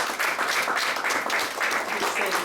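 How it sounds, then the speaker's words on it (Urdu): An audience at a gathering claps together, producing a dense, steady applause that continues throughout, fairly loud and close, with some voices mixed in. "تالی بجاؤ انسان"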